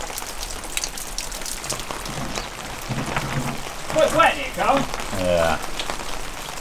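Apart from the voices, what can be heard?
rain falling outside a garage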